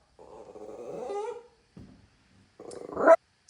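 An anxious dog on anti-anxiety medication growls and barks at another dog near the house, with a long rumbling growl followed by a short low sound and then a sharp, loud bark-growl burst, close and alone.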